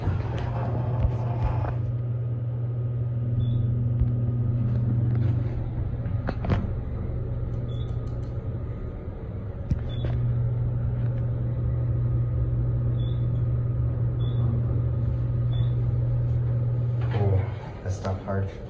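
A modernized Westinghouse/Schindler elevator at the Hyatt Regency, partway through its modernization, runs with a steady low motor hum and cab rumble. A few faint chimes and clunks sound over it, and the hum fades near the end.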